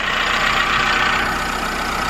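Seat Leon engine idling just after an oil filter change, a steady close mid-pitched hum with a slightly noisy, rattly edge and no talking.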